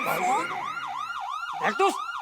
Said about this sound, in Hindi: फोन में पुलिस सायरन का रिंगटोन क्यों रखा?